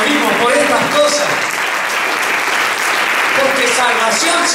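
A church congregation claps and cheers at a Sunday service in praise of Jesus Christ, the dense applause steady and loud throughout with voices calling out over it.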